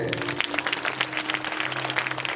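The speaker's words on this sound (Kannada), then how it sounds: "ಹೊಡೀರಿ ಚಪ್ಪಾಳೆ." A congregation claps at a watch night church service, a dense, steady patter of many hands filling the space for a couple of seconds.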